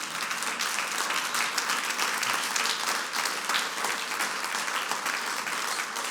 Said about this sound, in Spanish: Aplauda al Rey de Gloria, Jesucristo.